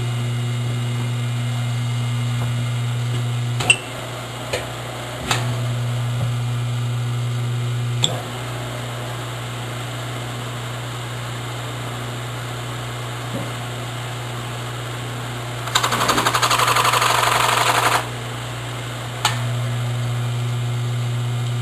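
A machine motor hums steadily with a low drone while a larger fly cutter is lowered onto wood. Scattered clicks are followed by a harsh two-second burst of cutting near the end.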